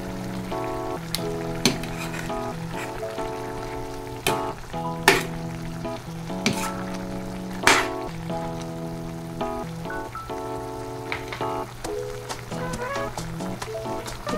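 Mixed vegetables with dried shrimp sauté in a pan, giving a soft steady sizzle broken by occasional utensil clinks and stirring taps.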